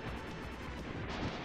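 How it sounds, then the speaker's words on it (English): Dense, rumbling explosions from the SNES game Cybernator boom in quick succession, a continuous heavy roar of blasts with no voices. "those are not very good looking explosions"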